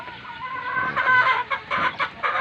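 Boston sweater gamefowl hens cluck close by in a brisk, choppy series of short calls that rise and fall in quick succession, with no one talking.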